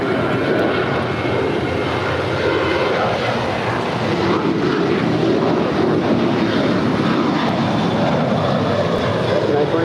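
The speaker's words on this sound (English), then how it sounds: "that is United 1727 off to Las Vegas, an 8-year-old 737-900ER" A United Boeing 737-900ER jet, eight years old, taking off from runway 25 right at LAX bound for Las Vegas, giving a steady, loud broadband engine roar that holds throughout.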